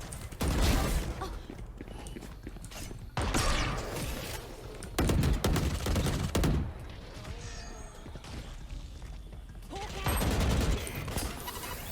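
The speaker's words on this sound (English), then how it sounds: "He's trying to shoot through the metal tin." Gunfire in the tactical shooter Valorant, aimed at a player hiding behind a metal tin barrier, comes as several loud bursts of shots separated by quieter stretches, mixed with game noise.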